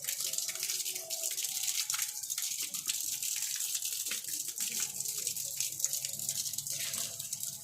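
Water running steadily from a tap or poured while rinsing shampoo from hair, a continuous soft gush with faint splashing, fairly quiet and unbroken throughout.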